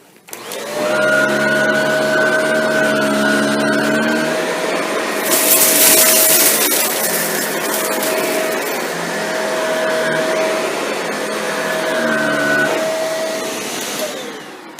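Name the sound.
Shark NV682 vacuum cleaner running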